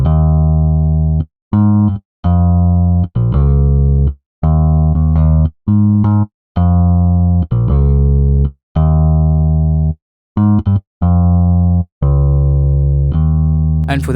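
Deep synthesized bass line recreating the pattern from a song, a loud series of punchy sustained notes with short gaps between them, played alone without drums or vocals.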